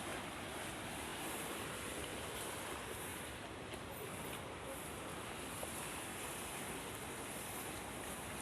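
Steady, roaring surf washes continuously onto a rocky beach at Pantai Rambak, Bangka, a dense rushing wash of breaking waves with no pauses, close and fairly loud.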